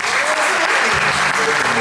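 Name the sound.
audience applause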